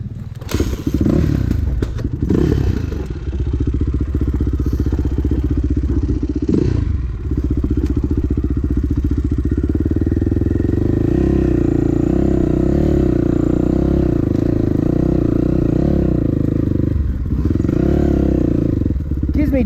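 A dirt bike on a slippery hill is started, with thumps and clatter from kicking before the engine catches. It then runs steadily and loudly close by, revving at times, as voices speak over it.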